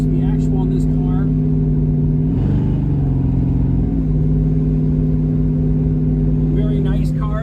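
A 1967 Ford Mustang Fastback with a 347 stroker engine drives along with a steady low engine drone, the pitch rising briefly midway as it revs, while someone talks over it throughout.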